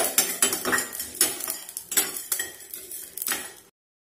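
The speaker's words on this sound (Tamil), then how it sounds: "இந்த கொத்தமல்லி, மிளகு, சீரகம் இந்த 3யும் போட்டு நல்லா வதக்கிக்கலாம்" Coriander seeds, pepper and cumin dry-roasted in a pan, heard as a spoon scraping and clinking against the metal in an irregular stirring rhythm, close and fairly loud, with no talking.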